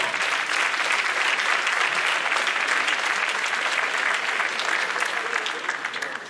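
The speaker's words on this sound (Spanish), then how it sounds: "Sí, el aplauso, gracias" Sustained audience applause at a Holocaust and Heroism Day commemoration, a dense, even wash of clapping from a large crowd that stays loud throughout and tapers slightly at the end.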